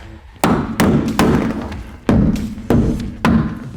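A pin being seated in a Ford Transit Connect LWB ceiling liner, with five or six firm, close thuds in a loose rhythm, each dying away quickly, and no voices.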